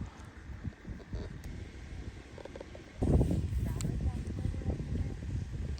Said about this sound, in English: we're here trying to fish and the wind picks up as usual